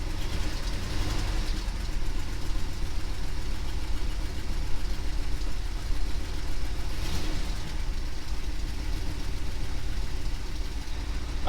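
A 1967 Ford F250 truck engine idling after a swap, a steady, close, rumbling idle with an even low throb and slight knocking, running alone without talk.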